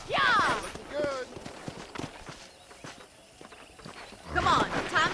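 Horse hooves clip-clop at a walking pace in the Red Dead Redemption game, a steady series of soft thuds beneath voices talking at the start and end.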